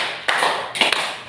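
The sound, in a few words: clapping hands in a counted class clapping game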